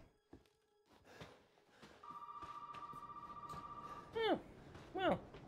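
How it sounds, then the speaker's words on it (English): A telephone rings in the Resident Evil 7 game, a sustained electronic ring tone held for about two seconds, followed by two brief warbling chirps, heard at moderate volume over quiet ambience with scattered thuds. "Now the phone's ringing."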